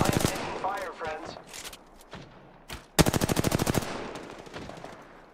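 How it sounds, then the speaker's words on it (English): Automatic weapon fire in the Apex Legends battle royale game, a fast burst of about a dozen sharp shots near the end, with brief game voice lines and scattered effects before it. "I am taking fire, friends."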